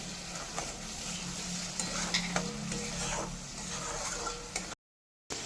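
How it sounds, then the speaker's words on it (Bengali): Soaked ground spice masala and chopped tomato fry in oil while being stirred hard, making a continuous sizzle with repeated scraping strokes that is briefly cut off near the end. "ভিজিয়ে রাখা গুঁড়ো মশলাটা দিয়ে খুব ভালো মতো কষিয়ে নিচ্ছি"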